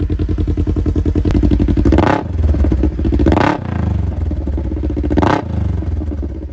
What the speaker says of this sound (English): Rev it up a little bit, see what he thinks about it.